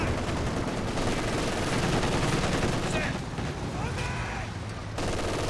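Continuous machine gun fire from an MG42 in the video game Company of Heroes 2, a dense, steady rattle with overlapping shots and battle noise throughout, loud and unbroken with only a brief dip.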